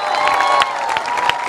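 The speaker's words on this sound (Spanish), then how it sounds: "¡Fuerte los aplausos, por favor!" A protest crowd against deforestation in the Chaco cheering and applauding, a brief dense wash of voices with a few claps.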